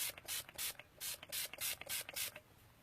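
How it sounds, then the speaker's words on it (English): Setting spray misted over a face in a series of about ten short, bright hissing spritzes, each a quick pump burst with brief gaps, fairly close and alone without talk. "So I'm just going to mist this over a little bit."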